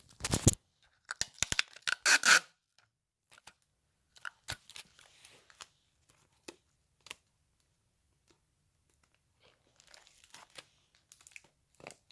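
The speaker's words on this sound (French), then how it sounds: "j'ai coupé les extrémités des bouts de paille" Scissors snip the ends of plastic drinking straws for a bunk bed craft, a few sharp cutting and crinkling bursts early on followed by sparse, quieter clicks and snips, close and with no talking.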